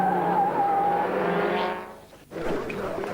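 A 1960s-style endurance race car skids on the track during the 1996 Deux Tours d'Horloge race, its engine droning steadily before tires squeal briefly and the car passes close by.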